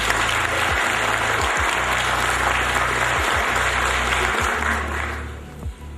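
An audience at a formal city council ceremonial session applauds continuously to welcome Metropolitan Ilarion, a dense, even clapping that fades toward the end.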